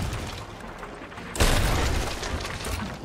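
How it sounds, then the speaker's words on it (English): A large ship cannon fires in the pirate game Sea of Thieves, one loud booming blast partway through, set against ongoing game noise and rumble. "Big cannon."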